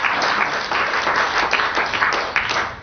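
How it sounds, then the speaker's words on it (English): An audience at an official event with a Minister of State for the FCT claps for themselves, giving dense, lively applause that stays close and loud throughout. "I want us to applaud to ourselves."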